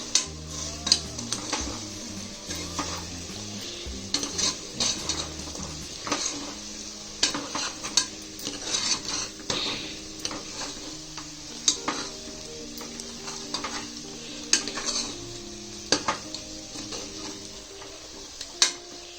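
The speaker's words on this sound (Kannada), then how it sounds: "ಈಗ ಚೆನ್ನಾಗಿ ಮಿಕ್ಸ್ ಮಾಡಿಕೊಂಡು" Chicken masala is stirred and mixed in a pan, a spoon scraping and clinking against the metal in irregular strokes over a soft sizzle of frying, close up with no talk.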